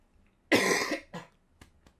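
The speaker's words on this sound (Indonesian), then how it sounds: "Saya masih batuk pilek." Someone suffering from a cough and cold coughs close up: one loud, harsh burst, then a shorter second cough, followed by a few faint clicks in an otherwise quiet room.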